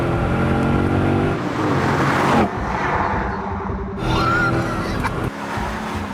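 Powerful sports car with a huge large engine revving loudly and close, its roar rising and falling in bursts with brief drops between pulls, no talking over it.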